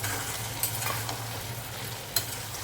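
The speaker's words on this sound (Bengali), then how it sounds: "এবার এই যে এঁচড়টা ভাজা হয়ে গেছে," Fried young jackfruit is stirred into a pan with fried potatoes and cooked-down spices, giving a steady sizzle broken by two sharp scrapes of the spoon against the pan.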